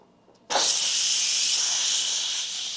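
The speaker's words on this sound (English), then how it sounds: "now I'm going to give it a manual release, so there's going to be a lot of steam" Steam from a pressure cooker's manual release bursts out suddenly and then hisses loud and steady, with no break, after a brief quiet moment.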